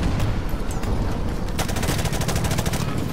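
Dense automatic gunfire from the video game Call of Duty Modern Warfare Remastered fills the whole stretch as continuous rapid bursts, loud and close, with no talk.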